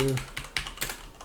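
Fingers tap keys on a grandMA2 lighting console keypad, a few quick, close clicks over a short stretch, following a brief bit of voice at the start.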